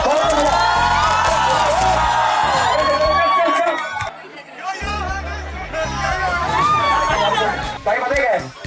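A dense crowd at a live Bollywood concert shouts, whoops and cheers loudly and continuously, many voices overlapping in a big venue with amplified sound underneath.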